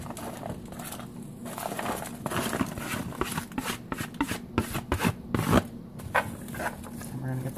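Onions and mushrooms are stirred in a pan for a mushroom gravy, giving a steady scraping, rustling sizzle with irregular clatters of the utensil, heard at close range while someone talks over it.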